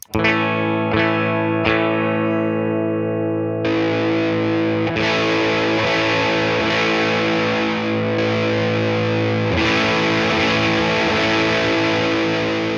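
An electric guitar rings out a few picked notes, then strummed chords grow thicker and grittier through stacked overdrive pedals, sustained and loud.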